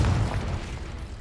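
A Confringo explosive spell is cast in the Hogwarts Legacy video game, producing a single loud, deep boom that rolls off and fades over about a second, with no talk.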